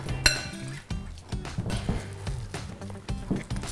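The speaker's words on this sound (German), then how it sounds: "Ich hole mal einen Topf fürs Nudelwasser" A metal pot for pasta water clinks and clanks a few times close by in a kitchen, sharp knocks as it is moved around, with soft background noise between.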